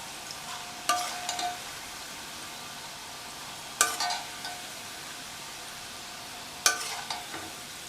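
Homemade wheat biscuits fry in hot oil with a steady, soft sizzle. Three sharp scraping stirs and turns at even intervals stand out clearly above it, and no one speaks.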